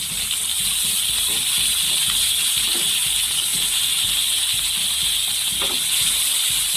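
Fish coated in a special masala fries in oil over a medium flame, giving a steady, loud sizzle and hiss throughout, with faint scattered crackles and no talking.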